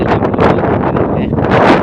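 Strong wind roars and buffets the microphone continuously, a dense, loud rushing noise with gusty swells throughout.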